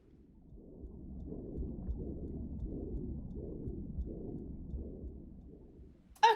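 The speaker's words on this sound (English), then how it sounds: "we just hear our heartbeat extremely loudly" A loud, slow heartbeat in the video game Dear Esther, heard after wading into the ocean: a steady run of deep, muffled throbbing pulses, alone and evenly spaced.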